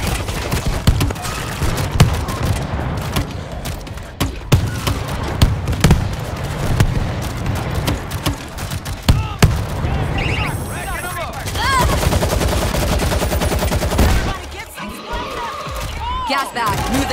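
Rapid bursts of automatic gunfire from army auto turrets in the zombie shooter World War Z, set in New York, crackling loudly and continuously over game music and explosions while a voice talks.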